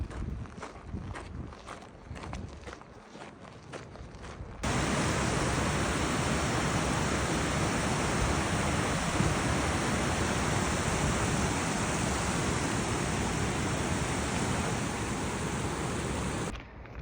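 The Middle Fork of the Kings River runs through a mountain meadow with small side tributaries, a steady close wash of rushing water that jumps suddenly louder after a few seconds of softer, uneven flow and then holds constant.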